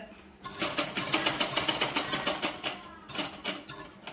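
A sewing machine stitches the sleeve of a dress in fast, rattling bursts. It runs for about two and a half seconds, pauses briefly, then starts stitching again close by.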